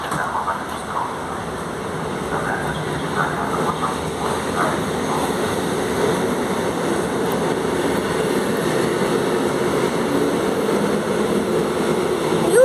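A train rumbles and hisses as it pulls away from a station in Gdynia, Poland, a broad steady roar that slowly builds, with no talking heard.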